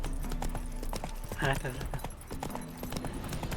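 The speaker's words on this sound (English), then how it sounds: "Spooking my horse." Horse hooves clip-clop steadily on the ground in The Witcher 3, a rhythmic run of hoofbeats with a brief whinny mid-way, while someone talks over them.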